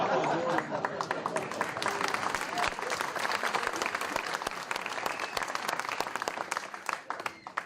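Crowd applause at a public evening event, continuous many-handed clapping at moderate volume with scattered sharper claps throughout.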